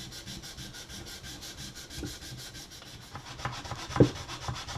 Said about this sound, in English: Let me move down here and do a little sanding as well in this area.